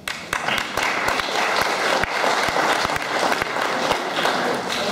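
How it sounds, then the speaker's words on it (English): A political forum audience for Rep. Tammy Baldwin breaks into applause, a dense, loud burst of clapping that holds steady for several seconds with a few sharper individual claps standing out. "a round of applause for you because you came out today."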